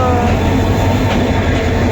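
A very large train pulling in at a station, a loud continuous rumble of rail cars with low-frequency roar and faint wheel noise, steady and close throughout.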